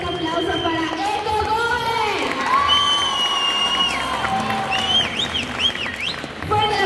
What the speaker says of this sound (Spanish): Yo quiero escuchar un fuerte aplauso para las tacitas.